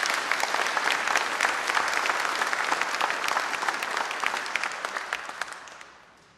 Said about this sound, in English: Let's give him a round of applause for that beautiful rendition of Amazing Grace.